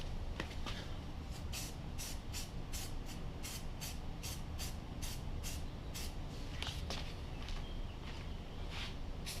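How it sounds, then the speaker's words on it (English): Spray paint can laying a flat black coat onto an ox shoe, a series of short, quiet hissing bursts in an uneven rhythm. "I'm ready to put the first coat of spray on the oxen shoe."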